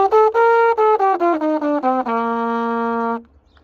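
A mellophone plays a clear, close melodic line of separate tongued notes that steps downward, then settles into one long sustained low note before stopping, with no talk over it.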